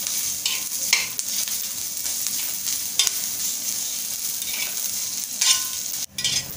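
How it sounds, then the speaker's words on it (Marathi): Onion, garlic cloves and ginger fry in a pan while being stirred, giving a continuous close sizzle with bursts of scraping and clattering as the spoon moves the pieces. Near the end there is a brief pause followed by a louder scrape, with no voices present. "हे बघा, आपल्या इकडे कांदा, लसूण आणि अद्रक छान भाजून झालेला आहे।"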